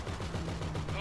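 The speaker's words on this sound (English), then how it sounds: "Oh shit, he's shooting me" Rapid gunfire in a first-person shooter match, a dense, continuous burst of shots filling the whole moment, loud and close with no clear gaps between them.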